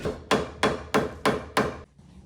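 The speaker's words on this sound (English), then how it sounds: "Got a bigger hammer." Five loud, evenly spaced hammer blows ring out in a steady rhythm, each a sharp metallic strike with a short decay, then quiet.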